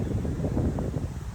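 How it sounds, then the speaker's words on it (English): Wind blowing outdoors, buffeting a microphone as a steady, loud low rumble with gusty surges throughout, no talking over it. "because it's windy, but I like it, I don't care"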